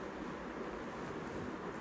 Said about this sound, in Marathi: एका चाळणीवर ते तांदूळ आपण काढून घेऊ आणि सर्व पाणी काढून घेणार आहोत